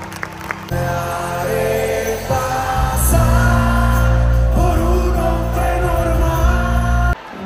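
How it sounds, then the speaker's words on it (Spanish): Concert crowd at the Auditorio Nacional applauds and cheers, a dense, loud wash of clapping and shouts layered over sustained music that fills the hall before cutting off abruptly. "Aplauso, fuerte."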